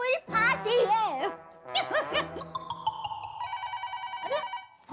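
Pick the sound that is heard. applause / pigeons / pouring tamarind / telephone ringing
telephone ringing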